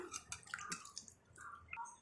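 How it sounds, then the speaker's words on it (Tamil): Tamarind being squeezed and dissolved by hand in water for paruppu rasam, soft wet sloshing and dripping splashes in quick irregular bursts, close and quiet. "நான் இப்போ எடுத்து புளியெல்லாம் கரைச்சிக்கிறேன்."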